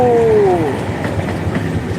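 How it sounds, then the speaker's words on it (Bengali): A local train from Chattogram, bound for the eastern end of the Jamuna Bridge, runs close by with a heavy, continuous rumble and a brief tonal whine at the start. "লোকাল ট্রেন এটা যাবে যমুনা সেতুর পূর্ব প্রান্তে এটা চট্টগ্রাম থেকে এসেছে"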